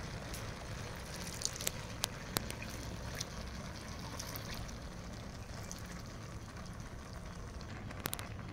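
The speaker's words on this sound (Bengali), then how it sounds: "দুধটা ঢেলে দিচ্ছি ওপর থেকে।" Milk tinted with food colour being poured from above over egg biryani in a pot, a soft continuous liquid pour with a steady hiss, close, with a few faint clicks along the way.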